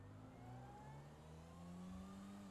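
A car engine droning steadily in GTA RP, its odd tone holding at a mid pitch with slight rises as the vehicle drives along, continuous and fairly quiet with no talking.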